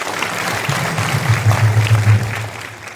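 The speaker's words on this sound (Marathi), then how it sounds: "त्या टाळ्या तुमच्यासाठीच तुम्ही वाजवलं" An audience at a devotional kirtan gathering claps together, a dense burst of applause that swells to a peak and then fades over a few seconds.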